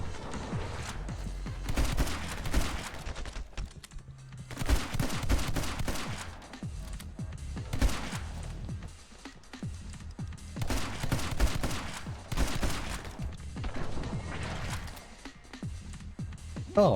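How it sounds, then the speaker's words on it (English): Shotgun blasts in the game Evil West come in repeated heavy bursts separated by short pauses, loud and booming with rattling clusters of shots across the whole stretch. "Shotgun."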